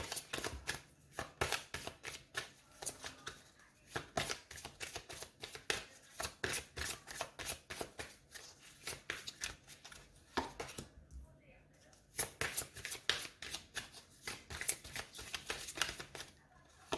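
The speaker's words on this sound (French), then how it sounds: "Je tire 4 cartes" Oracle cards are shuffled by hand in a long run of quick, crisp riffling bursts, close and fairly quiet, with a brief pause partway through before the shuffling resumes.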